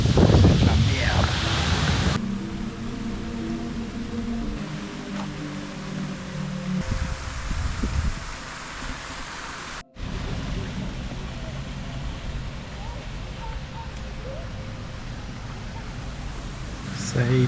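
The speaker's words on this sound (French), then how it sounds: "Comme c'est noir et le vent se lève là, c'est de la merde." Wind rises at night in a Swiss town, a broad, noisy rush with gusty swells that carries on throughout, fairly loud and close to the microphone, with a few sharp handling bumps.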